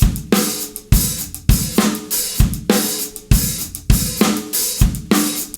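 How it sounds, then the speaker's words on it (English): A drum kit plays a 16th-note hi-hat groove with syncopated snare hits and kick drum, a steady repeating pattern, loud and close with no talking. "We're going to be working on a 16th note hi-hat groove."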